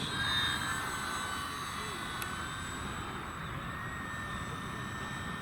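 An Arrows Hobby F8F Bearcat 1100mm RC model fighter makes a flat pass, its electric motor a steady whine and drone at moderate distance, fairly faint and level throughout.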